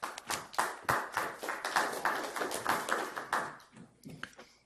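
Audience applause at a planning commission meeting: steady, dense clapping from a room of people for about four seconds, tapering off into a few scattered claps at the end.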